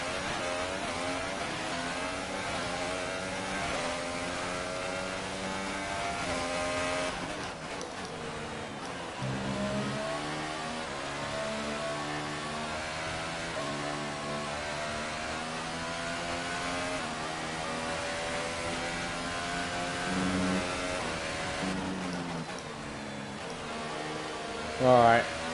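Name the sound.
race car engine in the video game F1 2018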